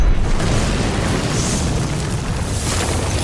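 A tank cannon shot: a loud, heavy explosive boom that fills the scene and rumbles on as a broad roaring blast.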